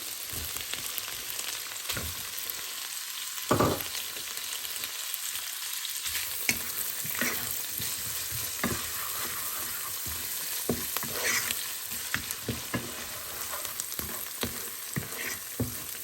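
Two chopped onions and chicken fry in a pan with a soft, steady sizzle. Scattered clicks and scrapes of stirring recur throughout.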